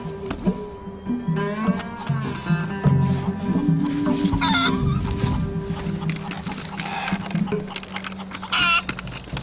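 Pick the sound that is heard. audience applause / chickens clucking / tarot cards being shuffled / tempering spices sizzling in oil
chickens clucking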